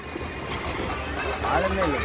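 Sea waves wash steadily onto a beach during the Masi Magam festival at C. Pudupettai, a broad continuous surf roar swelling near the end, under a busy crowd with voices talking nearby.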